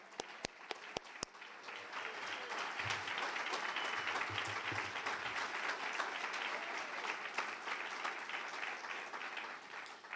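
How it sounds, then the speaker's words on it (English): A few sharp isolated claps open, then a large audience at a conference swells into sustained, even applause that carries on for several seconds, somewhat distant and soft. "I would love to give them all a quick round of applause"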